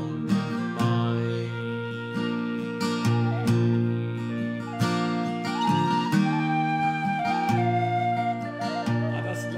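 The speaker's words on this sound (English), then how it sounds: "Dueling whistles." Two whistles trade a lively melody in duet, bright layered notes running continuously and clearly over a steady accompaniment, with no talking.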